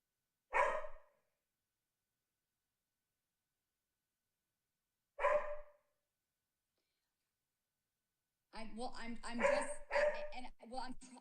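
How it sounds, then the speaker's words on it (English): A dog gives two single, sharp barks several seconds apart, close to the microphone in an otherwise quiet room. A voice then speaks softly, close by. "Sorry for my dog."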